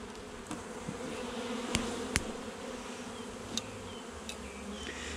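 Honeybees hum steadily at an open hive during a colony inspection in a bee yard, a continuous dense buzz with occasional louder individual bees passing close by, no talking.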